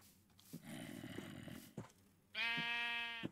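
A sheep bleats twice, a low wavering cry and then a brighter, strongly tonal bleat, close and loud, with short gaps of quiet between them.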